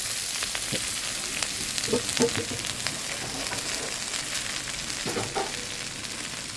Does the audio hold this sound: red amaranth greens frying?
yes